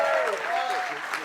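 Comedy show crowd applauding at a 2012 comedy tour, brief clapping heard beneath a host's voice speaking over it.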